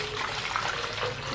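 Water poured into a container for a simple home experiment with food color and salt water, a steady close splashing pour running through the whole moment without pause.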